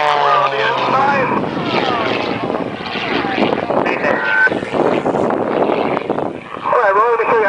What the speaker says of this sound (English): All right, Roy, let me show you how to fly an airplane with not using the wings.